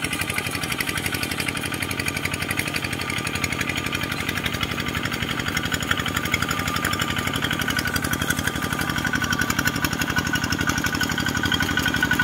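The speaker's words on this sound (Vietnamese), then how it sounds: "cái máy zt chạy cực kỳ đã luôn" A ZT cultivator engine runs steadily while working drying, sticky soil, with a constant loud mechanical drone and rapid knocking rhythm throughout and no talk.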